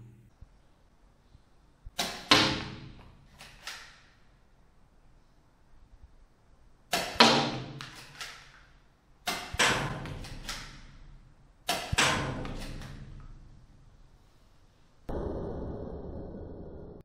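A compact soft-foam dart toy gun fires several times, each shot a sharp pneumatic pop with a quick fading tail, spaced a few seconds apart in a quiet room, ending with a longer hissing rustle.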